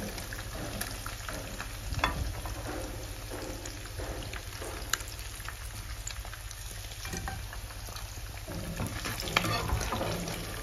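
Anchovies frying in a pan at a concrete batching plant workplace make a steady, close sizzle and crackle that runs unbroken throughout, with occasional sharper pops and no talking.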